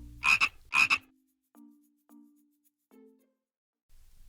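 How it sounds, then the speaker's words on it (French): A frog croaking: two loud, close rasping croaks in quick succession, followed by several fainter, shorter low croaks spaced apart against silence. "Une grenouille."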